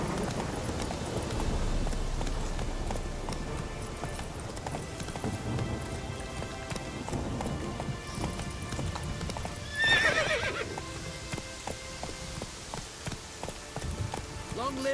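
A horse in The Witcher 3 gallops with quick, rhythmic hoofbeats, lets out a neigh partway through and slows to a trot, with rain and game sounds in the background and a voice exclaiming briefly.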